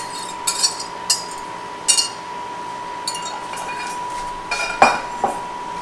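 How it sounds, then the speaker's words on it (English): Beaten egg being stirred into lemon pie filling in a bowl, with a scattering of light, irregular clinks of the utensil against the dish over a steady background hum. "and stir it well to combine it"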